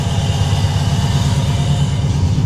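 A car engine with 172,000 miles, slightly low on oil, idles steadily up close, a low rhythmic rumble with a faint mechanical whir, no voices.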